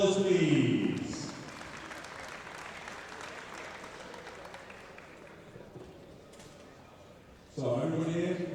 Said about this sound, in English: Give Kim a round of applause, please.